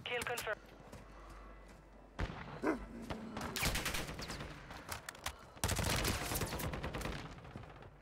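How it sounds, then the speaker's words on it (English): Gunfire in the video game Warzone, including a sniper shot, heard as several loud, sharp bursts of shots separated by quieter gaps, with a voice talking in between. "this sniper shot is actually fun"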